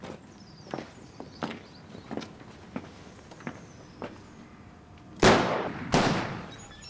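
On a film set, two sharp prop gunshots crack loudly in quick succession near the end, after a series of lighter footsteps or knocks spaced through the quiet scene.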